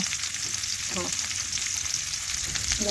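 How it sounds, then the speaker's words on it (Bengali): Chopped onions frying in oil in a pan, giving a continuous close hiss and crackle with a few brief stirring scrapes, no voices. "পেঁয়াজ একটু নাড়াচাড়া করে বেশ কিছুক্ষণ ধরে লাল লাল করে আমি ভেজে নেব"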